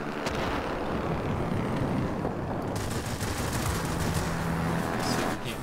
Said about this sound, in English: It has one 20mm cannon and a bunch of 50 cal machine guns.